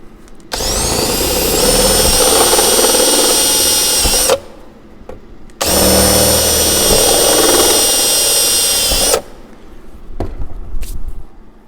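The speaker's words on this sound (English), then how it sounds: "take your step drill and open up each of the holes" A step drill bores out holes in aircraft seat parts during a Zenith Cruzer seat modification, running in two long, loud, steady whining bursts of about four seconds each, separated by brief pauses, with quieter handling noise afterward.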